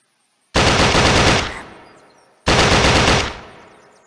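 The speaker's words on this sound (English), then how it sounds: "the gun sounds kind of remind me of, like, it's a movie from the 20s, or kind of like Mafia 2" Two bursts of rapid automatic gunfire from the Unturned Eastern Front mod video game, each loud volley lasting about a second and trailing off in a fading echo before the next.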